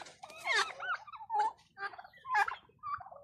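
Several loud warbling gobbles from turkeys, close by, coming in separate bursts with short pauses between.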